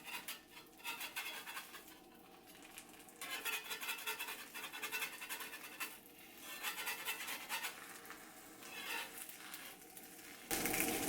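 A metal spatula scrapes and rubs around frying eggs on a Lodge reversible cast iron grill/griddle, a faint continuous rasping with small clinks, no talking.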